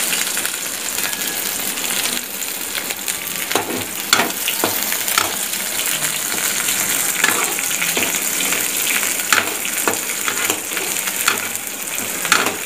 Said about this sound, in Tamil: வெங்காயம், பச்சை மிளகா, கருவேப்பிலை இது எல்லாத்தையும் போட்டு நல்லா வணக்கலாம்.